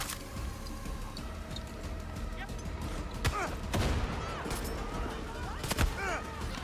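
Gunfire in the video game Far Cry 6: a few sharp shots ring out over a busy, noisy game mix with rumbling background action, fairly close and loud.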